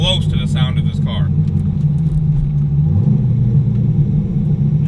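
A C5 Corvette Z06 V8 rumbling in a deep, continuous low growl close by, with someone talking over it at the start.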